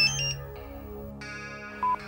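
A phone rings unanswered in repeated electronic tones, moderately quiet and alone, before the call goes to voicemail.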